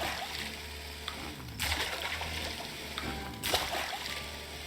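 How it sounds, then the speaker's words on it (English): Watering crops in the farming video game Farm Together 2, with two bright bursts of splashing spray standing out over a steady background of game ambience and music. "And then I'm going to go ahead and water them."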